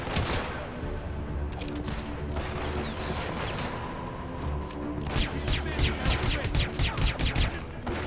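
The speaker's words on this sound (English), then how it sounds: "Shooting everyone." Rapid bursts of gunfire from shooting people in Hitman Absolution crackle in dense volleys, with thinner shots early and heavier, louder clusters toward the end.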